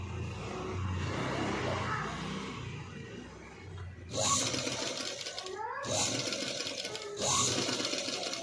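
A sewing machine stitches piping onto the lining of a boat-neck blouse, buzzing in short bursts that start and stop, with someone speaking over the quieter stretches.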